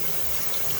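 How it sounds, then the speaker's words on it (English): Hot water runs from a kitchen tap into a bowl, a brief, steady, broadband rush of flowing water close by with no pauses and no voices. "I'm gonna run a little hot water"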